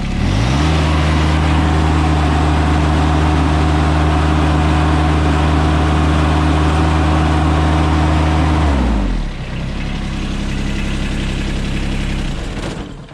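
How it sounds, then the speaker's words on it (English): A John Deere X748 garden tractor engine holds a loud, steady idle for about nine seconds, then revs up to full throttle as its tone shifts and the steady drone continues at higher speed. "So at idle, let's bump it up to full throttle."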